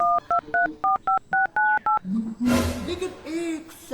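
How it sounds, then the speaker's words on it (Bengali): Phone keypad tones beeping in a quick series of about eight evenly spaced presses, then a short burst of voices and background noise as the call goes through. No clear ringing tone follows. "রিং হচ্ছে"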